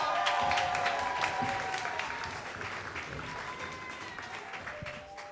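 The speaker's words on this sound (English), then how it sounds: "clap it up." An audience at a stand-up comedy show applauds in a steady wash of clapping, fairly distant and slowly fading over the few seconds.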